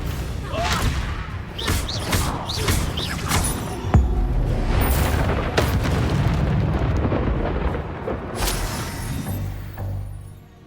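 Confringo spell explosions in a Harry Potter video game, giving a series of booming blasts and thuds with crackling bursts amid game effects, with voices speaking over parts of it.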